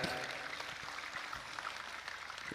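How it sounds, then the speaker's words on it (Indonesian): An audience at a sholawat religious gathering claps and cheers in a dense, steady wash of applause that carries on without a break. "tepuk tangan untuk Az-Zahir"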